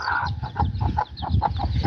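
Farm hens clucking close by, a run of soft rhythmic clucks and murmurs repeating every quarter second or so over a steady background rumble, no talk.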